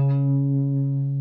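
A guitar sounds a major second: two notes ring together in one sustained, steady interval for about a second, loud and alone with no talking.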